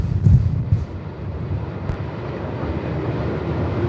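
Strong gusting wind buffets a camera microphone outdoors at Melbourne Airport, a heavy low rumble loudest near the start, then steady roaring noise throughout.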